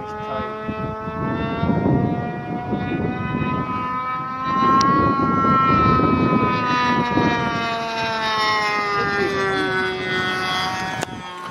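Flying at an RC field, a 60-size glow-engine Stick model airplane drones steadily overhead, its high buzzing tone rising and falling in pitch as it passes, loud and sustained throughout.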